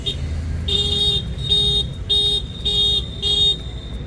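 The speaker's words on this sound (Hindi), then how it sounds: "बाइक स्कूटी सर्विसिंग वाले भाई साहब है, हॉर्न बजा रहे हैं वहाँ पे" A vehicle horn honks five times in a steady rhythm, each short blast ringing out loud over low roadside traffic rumble.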